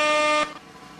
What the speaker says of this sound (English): Let's do 2 air horns, 1 drum snare roll, and then click draw.